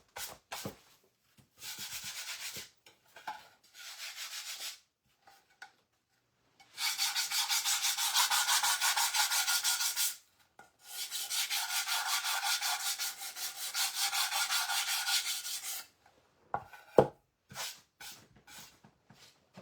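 Wood is hand sanded with fine 120-grit sandpaper for a small shelf-sitter craft piece, making close, scratchy rubbing strokes in several bursts of a few seconds each, separated by quiet pauses and ending in short taps.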